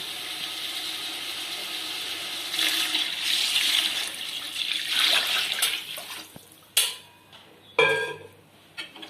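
Water pours and splashes steadily into a cooking pot of chicken biryani for several seconds, then tapers off, followed by a few sharp clinks of metal.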